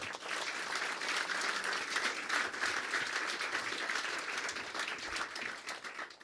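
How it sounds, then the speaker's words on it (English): An awards-night audience breaks into sustained applause, dense steady clapping filling the room evenly from start to finish with no voices standing out. "I think we ought to give him a round of applause."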